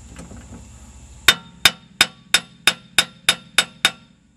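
A hammer taps on the axle hub of a Jeep ZJ during a CV axle install, giving nine sharp, ringing metallic strikes in a steady, even rhythm, close up and alone after a quiet start.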